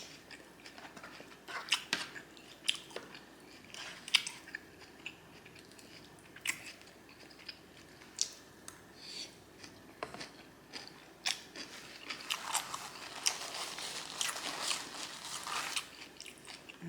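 Close, quiet chewing and biting of a Jersey Mike's sub sandwich with bacon, with scattered crunchy bites and wet smacking spread across the stretch, no talking.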